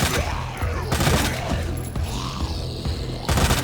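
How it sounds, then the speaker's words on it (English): Gunfire in Resident Evil 2 Remake's Ghost Survivors mode, with several booming shots over a dense game soundscape of mechanical clatter and ambience, fairly loud and continuous. "I'm shooting the ones in the distance to kind of just activate everybody"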